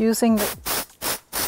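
Texture spray hissing onto hair in short bursts, three or four close spritzes with brief gaps, following a moment of talking.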